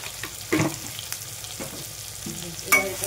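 A spatula stirs a dish seasoned with salt and a little sugar in a hot pan. Soft sizzling runs under several distinct scraping and clunking strokes close by, with no voices.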